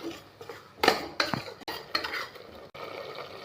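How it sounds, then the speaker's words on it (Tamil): Spoon stirring a ground paste of mint, coriander, tomato and onions in a metal cooking pan, with scraping clinks and a soft background sizzle, close and alone. "நல்லா கிளறி விடலாங்க."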